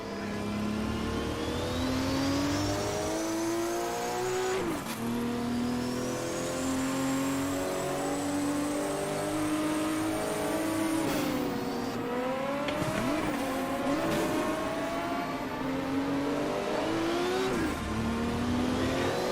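A Group 5 race car engine in the racing sim Automobilista, revving hard and close, climbing through gears with sharp shifts and downshifts for corners, continuous and loud with no talk.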